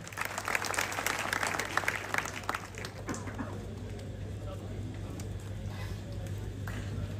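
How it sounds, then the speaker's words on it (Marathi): Audience applause at an outdoor kushti wrestling ground, a burst of dense clapping from a crowd for the first few seconds that thins into scattered claps and a low murmur over a steady hum. "टाळ्या करा त्या लेकरासाठी"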